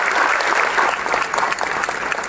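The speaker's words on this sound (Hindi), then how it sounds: "आप सब ने दिल खोल के तालियां बजाकर इनका स्वागत करना चाहिए" An audience applauds steadily to welcome guests at a public event, a dense, continuous clapping of many hands that stays loud throughout with no talk over it.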